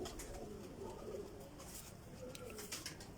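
Faint pigeon cooing drifts over a steady, noisy background, soft repeated coos mixed with distant outdoor hiss and rustle.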